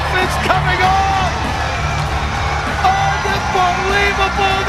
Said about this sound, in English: Listen to this crowd! The roof is coming off!